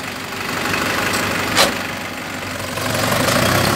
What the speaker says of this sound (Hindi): बहुत बढ़िया ट्रैक्टर है